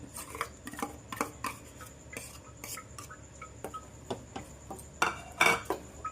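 Metal spoon scraping and clinking against a pot while almond-cashew paste is stirred into boiling milk, irregular close taps and scrapes with a louder cluster of clatter near the end.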